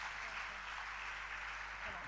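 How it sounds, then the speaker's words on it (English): Applause from a seminar audience at a financial economics event in Ghana: a soft, continuous patter of many hands, fairly distant and faint, with a low steady hum underneath and a voice briefly audible near the end. "Please give her another round of applause"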